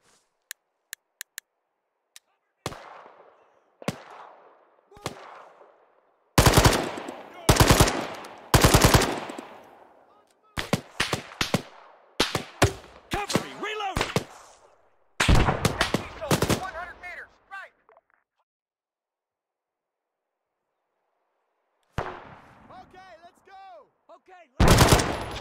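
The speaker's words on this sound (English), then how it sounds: "Covering fire!" Bursts of automatic rifle and machine-gun fire in an Arma combat game set in Chernarus, loud sharp volleys alternating with silences, some sustained rapid strings and scattered single shots, with shouted voices between.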